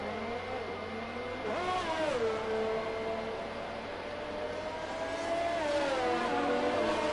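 A Ferrari race car engine during qualifying in a racing video game, a steady whining drone that rises and falls in pitch as it shifts and accelerates, constant throughout with no talk.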